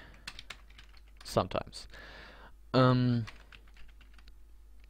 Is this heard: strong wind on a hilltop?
no